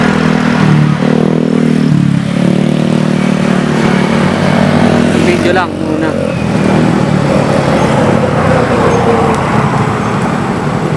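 Many motorcycles pass along a busy road in a continuous loud engine roar, with rising and falling revs as bikes go by close. Someone speaks briefly over the traffic.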